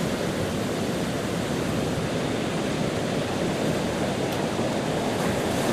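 Incoming soliton wave on the River Carron at Stonehaven, Scotland, a loud, steady rushing wash of water with a broad, unbroken hiss and no voices.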